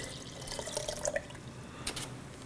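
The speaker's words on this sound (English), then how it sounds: "Pour my water in." Water poured into a small flower vase already holding diluted flower food gives a faint, close trickle with a few light drips and splashes in a quiet room.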